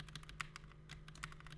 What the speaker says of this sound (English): You can use the arrow keys on your keyboard to go up and down.